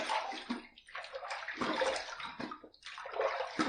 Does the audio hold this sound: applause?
no